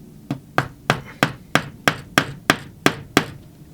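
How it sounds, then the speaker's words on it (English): Ten crisp, evenly spaced taps from a small pin hammer striking a model railway track pin, sharp and close with short ringing decays. "Little pin hammer."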